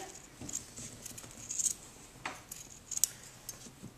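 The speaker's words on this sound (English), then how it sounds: "take your pair of scissors, trim around the outside." Scissors snip in a few short, crisp cuts around a dupioni silk fabric rosette, with small metallic clicks, close by in an otherwise quiet room.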